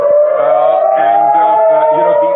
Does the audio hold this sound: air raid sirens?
yes